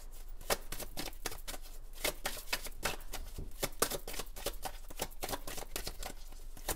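Oracle cards are shuffled close up in quick, crisp riffling bursts, a rapid string of sharp papery flicks in uneven clusters, fairly quiet and with no talking.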